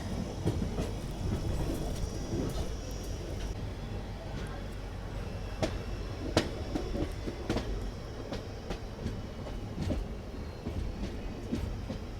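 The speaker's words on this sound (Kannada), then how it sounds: "ನಮ್ಮ ಟ್ರೈನ್ ಸದ್ಯಕ್ಕೆ ಮರ್ಜ್ ಆಗ್ತಿದೆ ಗುಂತಕಲ್ ಹುಬ್ಬಳ್ಳಿ ಮೇನ್ ಲೈನಲ್ಲಿ" A Kushtagi–Hubli passenger train merges onto the Guntakal–Hubli main line, giving a steady, fairly quiet rolling rumble broken by scattered clicks and knocks from the wheels over track joints.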